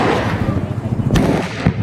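Diwali firecrackers go off outdoors during a night celebration. Two sharp, loud blasts land about half a second apart, with people talking close by before and between them.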